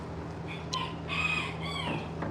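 A rooster crows faintly at a distance, a short drawn-out call over a quiet, humming background.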